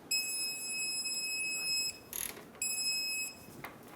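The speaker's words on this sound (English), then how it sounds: "a quarter of a turn is the torque for this castle nut" Ratchet tightening a castle nut on the outer tie rod of a 2003-2009 Dodge Ram 2500, two close bursts of rapid metallic clicking separated by a short pause, with no talk.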